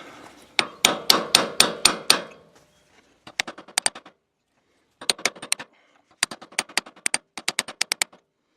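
A hammer taps repeatedly at a part pressed onto the shaft of a New Holland bar rake: a fast burst of loud metallic strikes, then several shorter runs of lighter, sharp taps separated by pauses.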